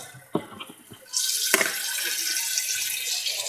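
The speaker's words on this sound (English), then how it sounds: "coming back, adding in the cold water." Cold water pours steadily from a tap into a cooking pot for a Portuguese-style New England clam boil, a continuous close hissing rush beginning after a few brief clinks and knocks, with no talking.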